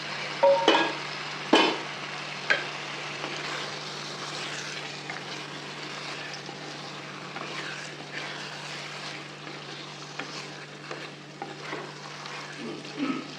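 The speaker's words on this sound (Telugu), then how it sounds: "ఈ టైంలో చేపలు వేసుకుందాం." Fish slid into hot oil for a spicy Telugu fish iguru curry, frying in a pan with a steady, moderate sizzle, a few louder spits and stirring clatters near the start, and no talking.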